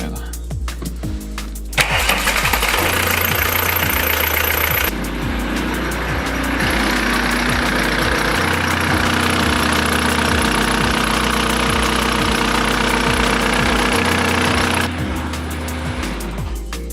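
A Volkswagen Passat B3 car engine runs close by, opening with quick rhythmic pulses before settling into a steady, throbbing mid-pitched drone that holds for the rest of the clip.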